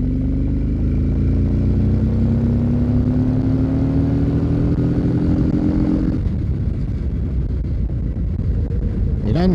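A Harley-Davidson CVO Street Glide 117 accelerates in third gear from about 2500 rpm. The loud, close V-twin rumble climbs steadily in pitch, then shifts to a rougher, deeper drone after a few seconds.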